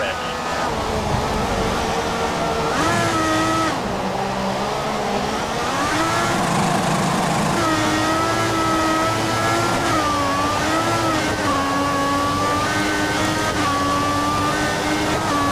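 Formula 1 race car engines in the F1 2014 video game on the Chinese circuit, loud high-pitched revving that rises and falls through gear shifts, with a voice talking over it.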